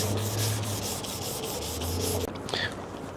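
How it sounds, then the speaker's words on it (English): A sanding block rubbed over primer in short rapid back-and-forth strokes, close and steady, with a brief handling knock near the end. "We just want to make sure it all gets sanded good, the primer's sanded smooth."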